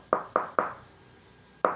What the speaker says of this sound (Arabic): وفوق في غرفة عطر عبد المالك خبط عليها